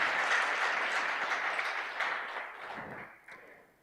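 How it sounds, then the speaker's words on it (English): An audience at a university project launch claps in a sustained burst of applause that fills the space, then slowly fades out over a few seconds. "Please clap for Dr. Mark"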